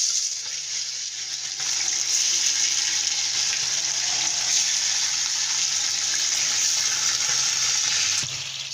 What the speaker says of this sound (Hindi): इसमें अब हम ये डालेंगे चिकन और इसको फ्राई करेंगे